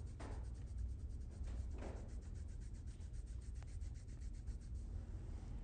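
A hand rubs back and forth over SpiderTech precut kinesiology tape on the skin of a knee to set the adhesive, making a soft, steady, papery scuffing that stays close and continuous for several seconds without speech.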